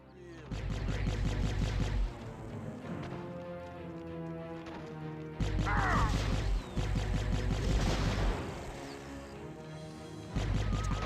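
Video game gunfire and explosions during an attack on a defensive tower, bursts of rapid shots and booms in loud waves with short lulls between, mixed with game music and announcer voice.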